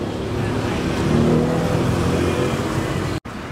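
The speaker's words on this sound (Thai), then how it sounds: "มาพร้อมท่อสูดเสียงลั่นๆมาแล้วนะครับเรียกได้ว่าพร้อมซิ่งทันทีเลยนะครับ" A 2013 Honda CBR500 motorcycle fitted with a loud aftermarket exhaust rumbles steadily up close, a dense throaty drone that swells slightly before a brief cutout near the end.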